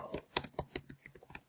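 Someone types on a computer keyboard in a quick, uneven burst of sharp key clicks, close and clear with no voices.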